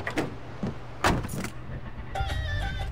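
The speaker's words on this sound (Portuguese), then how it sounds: "vamos pegar o carro aqui dos caras" A car in the Far Cry 4 video game: door and handling clunks followed by an engine starting up and settling into a steady hum, close and moderately loud with no talking.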